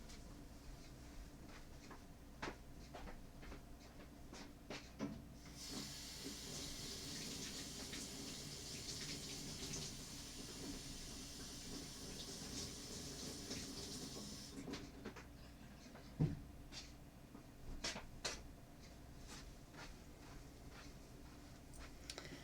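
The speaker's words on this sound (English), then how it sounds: "I'm going to go rinse this off really quick." Running tap water rinses glue off a foil craft project, a steady broadband hiss of flowing water lasting several seconds, with handling knocks and clatter before and after.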